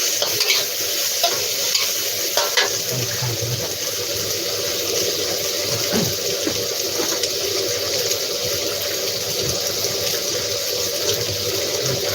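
Eggs go into a pan of stir-frying cucumber, giving a steady, close sizzle throughout with repeated scraping stirs and a faint running-water wash in the background; no one speaks.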